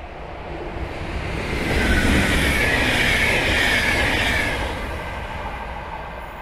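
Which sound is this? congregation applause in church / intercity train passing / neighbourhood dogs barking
intercity train passing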